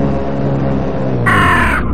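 A crow caws inside a tunnel in the video game Dead End Road, a single harsh, loud caw arriving late over a steady engine-like drone.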